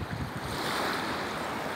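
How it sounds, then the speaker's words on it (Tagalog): Sea waves wash continuously onto a beach in a steady, broad roar, mixed with wind buffeting the microphone, with no voices over it. "Dito kami sa dagat ngayon."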